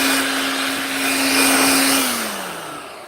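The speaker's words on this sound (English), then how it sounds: "bought this 18-volt cordless blower / vacuum" An 18-volt cordless leaf blower and vacuum whirs with a loud, steady motor roar and airy rush, then winds down slightly toward the end.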